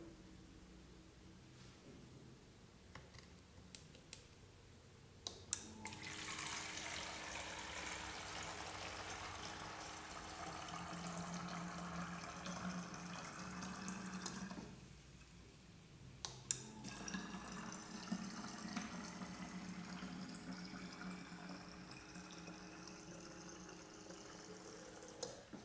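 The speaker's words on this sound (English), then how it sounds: "First I will put 500 ml liquid 2 times to make 1000 ml" An Arduino flow-sensor filling machine pumps liquid into a bottle, a steady hissing pour that starts after a few seconds, pauses briefly midway, then resumes for a second fill, faint and close with small clicks.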